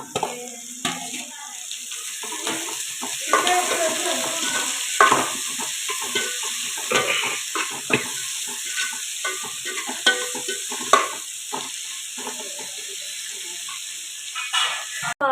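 Steady hiss of onions softening in a hot pan for mutton intestine curry, broken by frequent scraping and stirring clatters from a spatula.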